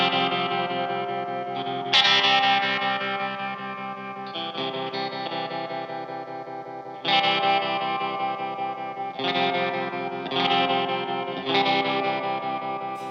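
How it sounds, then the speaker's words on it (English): A Squier Paranormal Esquire Deluxe electric guitar rings through an amp with the reverb turned up, loud distorted chords struck in several bursts and left to sustain with a washy echo tail, played alone. "Keep the reverb up? Yeah, because you get a better sense of the tone of it,"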